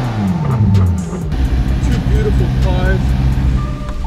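A McLaren 720S supercar pulls away with a loud, steady engine drone and rising rumble, close by, while people talk over it.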